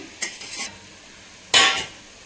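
A spoon scrapes and stirs a fried potato, cauliflower and brinjal stir-fry in a pan, two short loud bursts of stirring separated by a quiet gap.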